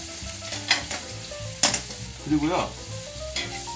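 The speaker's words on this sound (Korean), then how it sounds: "타임과 마늘은 1분간만 이렇게 놔서 향을 버터에 입혀줍니다." Thyme sprigs and garlic sizzle in melted butter in a pan while a rib eye steak is pan-seared, a steady frying hiss broken by a few stirring clatters and scrapes close by, with a brief voice.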